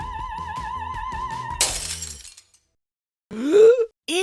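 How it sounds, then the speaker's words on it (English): A sung, wavering high note ends suddenly as a crystal glass shatters with a bright burst of breaking shards, followed by silence and then a voice gasping and groaning. "some opera singers are able to produce so much energy with their voice that they can make a crystal glass explode?"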